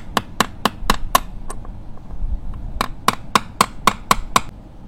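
A hammer strikes a chisel against a motorcycle sprocket in two sharp metallic bursts: about six fast, ringing blows, a short pause, then about seven more, loud and close with no talking.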